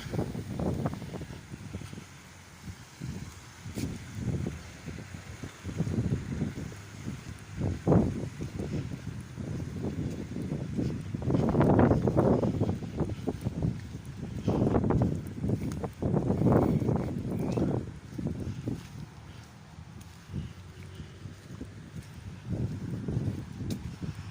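Strong wind buffets the microphone in irregular rumbling gusts, swelling and fading over the whole stretch.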